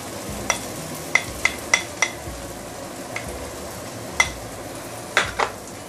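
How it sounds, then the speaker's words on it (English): Garlic and spring onion fry in oil for a Guangxi dipping sauce, a steady soft sizzle broken by a series of sharp, close utensil clicks and scrapes as they are stirred, with no talking. "So once you see the garlic started to turn brownish, now you can actually put in the spring onion."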